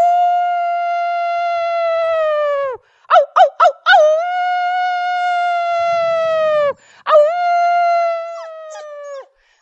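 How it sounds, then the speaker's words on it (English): A dog howls in long, sustained wavering tones, broken by a few short yips and a brief pause before the howl resumes, loud and close with no talking. "So some dogs don't like to howl because it might hurt their ears."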